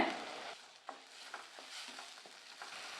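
Masala paste with turmeric powder and salt sautéing in oil in a pan for mint rice, with soft sizzling under repeated scraping strokes of a spoon, all close by and with no talk.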